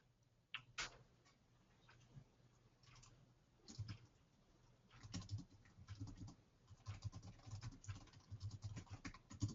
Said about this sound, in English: Hear the sounds of our keyboards.